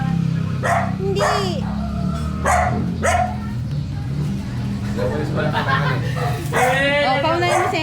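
A dog barks in several short bursts spread across the stretch, close and fairly loud, over a steady low traffic drone with people talking nearby.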